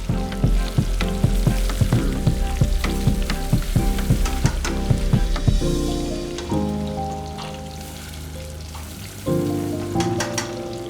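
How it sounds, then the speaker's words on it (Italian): A breaded veal cutlet frying in oil for cotoletta alla bolognese, a close, loud crackling sizzle with bursts of sharp pops that eases briefly, then flares up again, with no voices over it. "Procedo a immergere la cotoletta. Lascio cuocere prima da una parte e poi la giriamo dall'altra per la doratura."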